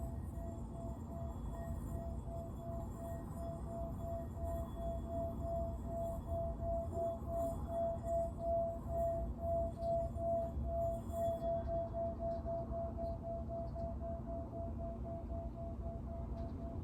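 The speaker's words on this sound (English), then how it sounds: "I'm going to ring the Tibetan singing bowl" A Tibetan singing bowl rings in a meditation setting with a steady, sustained, shimmering tone that holds evenly for the whole stretch, soft and calm, with no voices.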